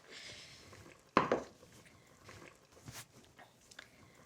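A cooking pan of thickened paneer curry sauce is lifted off the stove and set down with one sharp metallic clank, followed by faint, scattered kitchen clatters.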